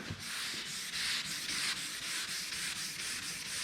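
Steady rhythmic sanding of clear coat on a Z28 car body, a close, continuous abrasive rubbing with regular back-and-forth strokes and no talking.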